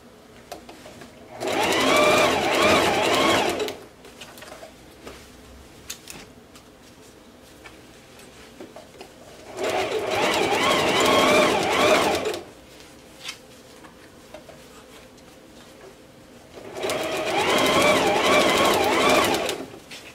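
A sewing machine stitching jersey fabric runs in three separate bursts of about two to three seconds each. Each burst is a fast, even mechanical whirr, with quiet pauses between them and no talking.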